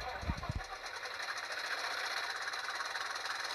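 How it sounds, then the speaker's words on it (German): Knocking diesel engine sound from a Liliput/ESU VT 69 900 model railcar: after a few low thumps at start-up, a steady, buzzy, clattering idle runs continuously at moderate level, close by. "Der typische nagelnde Dieselsound."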